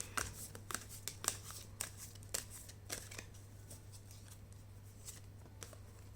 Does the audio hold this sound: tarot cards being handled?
yes